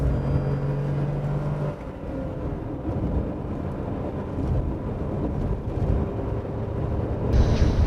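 A 2020 Tata Nexon accelerating hard through its gears, a loud, steady engine and road roar heard from inside, with a brief dip around a gear change and no talk.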